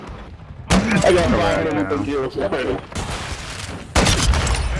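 Shotgun blasts in a video game, heavy and booming, heard twice with a pause between them. Someone talks over the gunfire.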